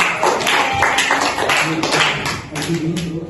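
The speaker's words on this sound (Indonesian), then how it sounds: "Boleh tepuk tangan yang lainnya." Students clapping together in a classroom during a teaching simulation lesson, a short burst of uneven hand claps close by, with some voices mixed in.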